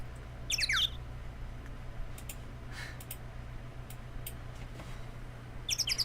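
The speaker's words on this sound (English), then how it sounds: "The bird noise is in the background of the" Faint bird squawks and chirps in the background, heard as short bursts near the start and end over a low steady hum, with soft ticking in between.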